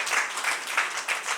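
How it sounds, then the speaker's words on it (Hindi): A church congregation applauding loudly during a sermon, a dense burst of many hands clapping in steady waves close by, with no voices over it. "जोरदार ताली बजाएंगे।"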